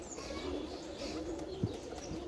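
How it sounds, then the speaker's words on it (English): Turner roller pigeons coo softly and fairly close in a loft, a few low murmuring calls over faint background noise, with no talking. "These are all my Turner rollers."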